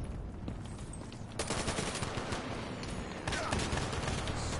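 Gunfire in Black Ops 3 multiplayer, a dense rattle of shots with two sharp, louder blasts partway through, steady and close.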